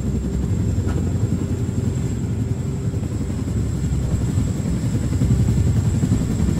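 A helicopter in the video game Wolfenstein: The New Order gives a steady, loud rotor and engine drone that holds even for the full stretch, with no voices over it.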